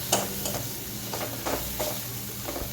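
Tomatoes with turmeric, chili and cumin frying in oil for potato curry, a steady close sizzle with repeated soft scraping strokes of a spatula stirring the pan.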